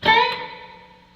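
Electric guitar stab played on the neck pickup with reverb switched on, for a song lesson; a single bright chord struck then decaying into a reverberant tail, alone.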